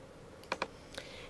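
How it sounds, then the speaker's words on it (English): A few quick keystrokes on a computer keyboard, three or four close, crisp clicks in a quiet room. "I'm going to go ahead and type in the journaling"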